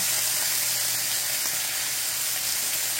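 Thick cut hickory smoked bacon sizzles in a pan on a stove, a steady, dense, bright hiss of frying fat that stays constant and close, with no voices.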